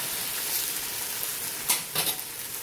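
An omelette fries in a pan with a steady broadband sizzle, broken by a couple of brief scraping knocks as it is turned over.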